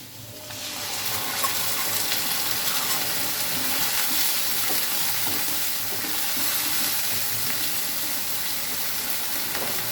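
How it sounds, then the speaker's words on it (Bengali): Taro and potato are sautéed in a pan for a vegetarian curry with green chillies. A continuous, close, even frying hiss runs throughout, with faint stirring scrapes underneath. "আমার সবজিগুলো ভালো করে কষানো হয়ে গিয়েছে"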